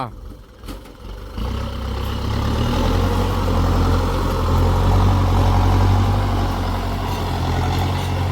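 Kubota M6040SU tractor ridging a field: a heavy diesel engine rumbles steadily and loudly after a brief rustle at the start, holding a deep continuous drone.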